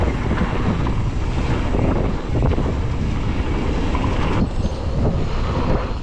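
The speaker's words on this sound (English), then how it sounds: "The weather on this day was actually quite windy" Strong wind buffets a microphone while mountain biking on a trail at Bike Park Wales, a loud, continuous roaring rumble with no voices.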